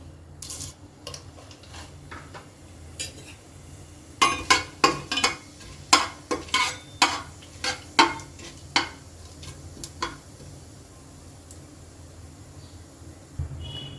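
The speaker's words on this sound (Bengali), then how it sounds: "কুকার গরম হয়ে গেছে এবারে এর মধ্যে দিয়ে দিলাম আমি সর্ষের তেল দিয়ে দিচ্ছি তেজপাতা আর এক চামচ মতো গোটা জিরে" Whole cumin seeds and a bay leaf hit hot mustard oil in a pressure cooker, giving scattered faint sizzles and a run of sharp pops and clicks in the middle, close and without talk.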